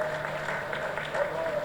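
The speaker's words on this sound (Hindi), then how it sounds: "एक बार जोरदार तालियां" Applause from the audience at a cooperative housing society prize ceremony in Thane, a steady sustained clatter of clapping hands that fills the whole short stretch at moderate loudness.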